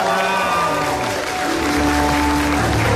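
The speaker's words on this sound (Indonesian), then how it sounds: "mana tepuk tangannya?" Studio audience at an Indonesian TV talk show clapping in response to the host's call, a loud, continuous burst of applause mixed with music tones throughout.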